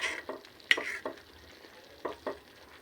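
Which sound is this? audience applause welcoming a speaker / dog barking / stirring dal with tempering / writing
stirring dal with tempering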